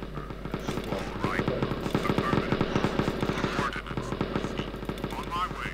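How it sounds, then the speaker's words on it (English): Turrets in the Zombie Defence game fire in rapid, steady bursts of sharp pops at zombies, a continuous rattling barrage with occasional higher electronic blips over a low hum. "And my turrets are just going to kill everything"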